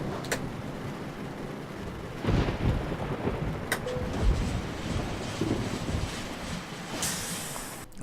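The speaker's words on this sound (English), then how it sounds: "And it started raining as well now." Rain and thunder in Euro Truck Simulator 2 while hauling a 55-tonne mobile crane, with steady rainfall hiss broken by several sharp thunder cracks and a deeper rumble swelling midway.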